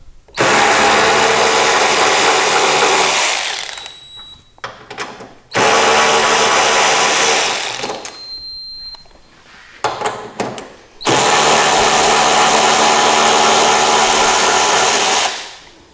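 Cordless electric ratchet wrench backing out two 10 mm bolts, with three long, loud whirring runs of a steady motor whine separated by short pauses and faint clicks, close up and without talk.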